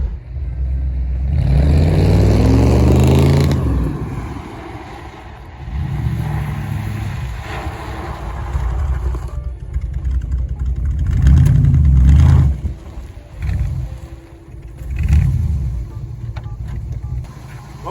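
Engine of an abandoned 1969 Camaro, left in a back yard for 18 years, revving in repeated surges with the rear tires spinning, loud and close, rising and falling over several bursts with short dips between.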